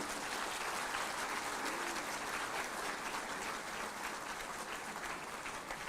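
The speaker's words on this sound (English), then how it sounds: "And give a round of applause to yourselves, because that 4G core was invented by you." An audience at a C-DOT telecom event gives itself a round of applause, sustained steady clapping heard fairly far off and quiet for six seconds with no talking.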